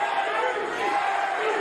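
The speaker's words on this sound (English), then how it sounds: "And the crowd chanting" A large arena crowd at the Magsayo vs Russell boxing match makes a steady, far-off roar of voices that could be a chant, a dense wash with no break through the stretch.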